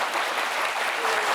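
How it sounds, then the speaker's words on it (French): A TV studio audience gives a short burst of steady, moderately loud applause. "Alors, pas d'applaudissements pour le Burkina?"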